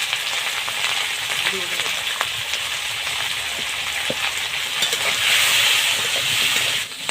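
Potatoes hit hot oil in a pan while cooking a gourd and shing fish curry, giving a loud steady hissing sizzle that swells near the end, with a brief spoken phrase near the start.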